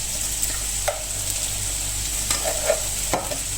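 Nasi goreng made from leftover rice sizzles steadily in a hot pan in a home kitchen, with a spatula scraping and stirring in a few soft strokes through the continuous frying hiss.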